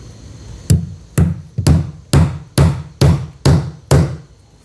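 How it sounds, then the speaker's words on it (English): A staple hammered in beside a washing machine box: eight sharp, evenly spaced hammer blows about half a second apart, close and loud, each with a short ringing decay. "I like to fasten a staple within 6 inches of the box"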